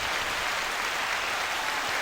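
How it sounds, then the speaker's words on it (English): A short burst of steady applause from a small studio audience during an NFL season preview show, continuous hand clapping heard alone at moderate volume. "Nobody gets on that applause faster than Johnny."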